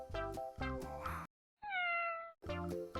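A cat meows once, clear and drawn out, between stretches of narration in a fairy-tale telling.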